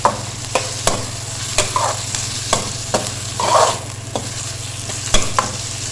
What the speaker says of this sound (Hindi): अब हम इसको इतना फ्राई करेंगे कि ये गोल्डन हो जाए